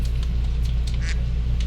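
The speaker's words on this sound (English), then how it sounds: "Quack quack" Ducks quack in the background over a steady low hum, with several short bursts scattered across the stretch.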